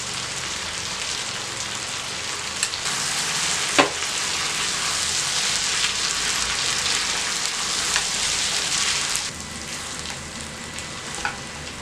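Ground coconut and fennel paste poured into frying chicken masala, a steady loud sizzle and crackle of hot oil with a few sharp pops and stirring scrapes throughout.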